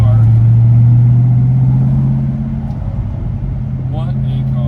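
Steady low idle of a 1971 Ford Torino GT convertible's 429 Cobra Jet V8 with four-speed manual, a loud even drone that eases slightly midway, with a voice briefly speaking near the end.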